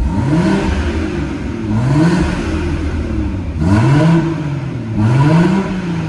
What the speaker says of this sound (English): taking it out of sport and I'm going to rev it again.